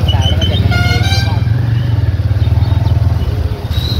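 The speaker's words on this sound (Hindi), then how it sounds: "और बाइक भी आ रही है" A motorcycle passes close by near a tunnel on a wet road after rain in Etah, its engine pulsing in a loud, rapid throb. A few short horn toots sound early on, and voices talk underneath.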